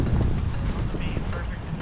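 Wind rushing past and waves washing against a sailboat sailing at speed on a beam reach in good wind, heard as a loud, continuous roar of wind buffeting the microphone over the wash of water.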